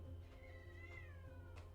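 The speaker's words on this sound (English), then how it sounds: "You can just stop meowing at the door now" A house cat meows repeatedly at a door, several drawn-out cries rising and falling over a steady low hum, fairly close and clear.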